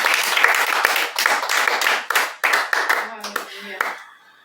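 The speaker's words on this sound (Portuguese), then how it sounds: "Vamos louvar com aplausos ao Senhor Jesus" A small worship group claps together in praise, a run of quick, close, irregular hand claps over singing voices that thins out and stops near the end.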